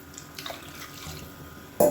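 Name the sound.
water poured into ground masala for mushroom biryani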